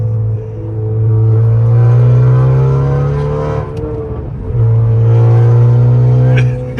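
A tuned 2019 Honda Accord Sport 2.0T with a manual gearbox, downpipe and Borla Type S exhaust accelerates hard, a loud close engine drone climbing through a gear, dipping at the shift, then pulling again.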